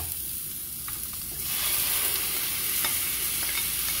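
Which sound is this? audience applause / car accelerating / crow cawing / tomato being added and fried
tomato being added and fried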